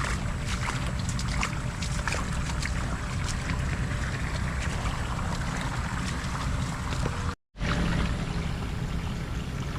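Irrigation water gushes steadily into a hole beside chili plants in an outdoor field, a continuous rushing, splashing flow heard up close, cut by one brief dropout of sound.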